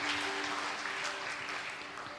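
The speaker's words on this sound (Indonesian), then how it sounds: "kita beri tepuk tangan untuk teman-teman kita yang memberi kesaksian" Audience applause for people who shared testimonies at an evening church gathering, a steady wash of clapping from a crowd, moderately loud throughout with a faint tonal hum underneath.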